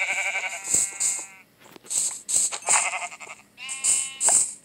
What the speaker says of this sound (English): We need sheep.